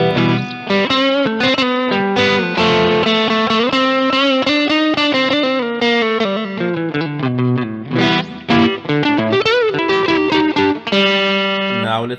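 Electric guitar through a Simplifier DLX amp simulator at an edge-of-breakup tone, a continuous, loud, lightly overdriven chord-and-riff passage played alone with strong sustaining harmonics.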